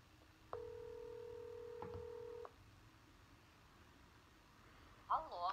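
A steady dial-style telephone tone holds for about two seconds, then cuts off; a short burst of a voice or ringback follows at the end, quiet overall.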